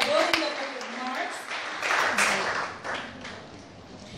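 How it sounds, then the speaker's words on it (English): Congregation clapping hands together during a church worship service, a dense sustained wash of applause running throughout, with a voice speaking faintly over it. "let's clap our hands to the Lord"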